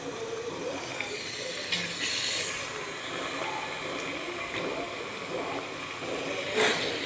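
Mutton pieces go into a pan of fried onions, producing a steady broad sizzling hiss that holds throughout with a few brief louder flares, close and fairly loud.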